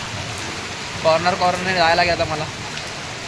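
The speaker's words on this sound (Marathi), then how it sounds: "सध्या काशीला खूप पाऊस पडलेला आहे" Heavy rain falls over Kashi as heard from a rooftop terrace, a constant close wash of noise while someone speaks briefly over it.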